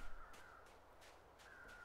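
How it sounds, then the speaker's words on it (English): Crows in the video game The Long Dark give a few hoarse caws, spaced apart against a steady low ambient wind bed, moderately distant. "Why are there birds over here?"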